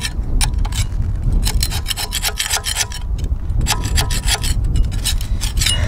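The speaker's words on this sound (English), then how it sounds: "rub this down with a wire brush and a scraper" Wire brush and scraper rubbing down the metal parts of a narrowboat weed hatch, heard as loud, close, continuous rasping strokes in an uneven back-and-forth rhythm with no voices.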